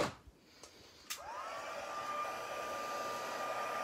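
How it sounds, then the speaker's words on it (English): Heat tool blowing on gold embossing powder, a steady close whooshing hum that switches on after a few small clicks and keeps running. "now we're going to hit it with a heat tool so it'll be nice and shiny"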